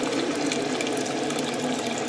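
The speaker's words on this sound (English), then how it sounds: "so put enough water to make soup for 3 people." Water pours steadily from a tap into a cooking pot being filled for soup in a home kitchen, a continuous close splashing stream.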